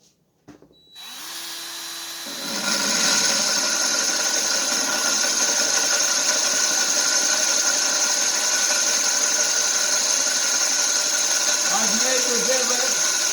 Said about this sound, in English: I can't talk for about 3 minutes while I drill the hole.